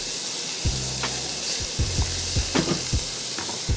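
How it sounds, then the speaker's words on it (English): Onions sautéing in a pan over a steady sizzle, with several distinct spatula scrapes and stirs knocking through at close range. "We're gonna go ahead and saute the onions until they get nice and soft and tender"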